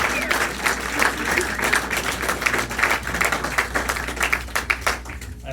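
A crowd claps steadily, the dense rhythmic patter of applause holding at an even level for several seconds, at a live music show in Kansas City, Missouri.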